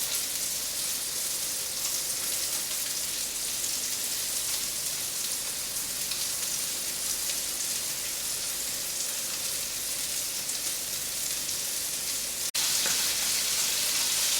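A beef patty for a cafe-style burger frying in a pan, making a loud, unbroken hiss of sizzling fat that holds steady throughout, with one faint click near the end and no speech.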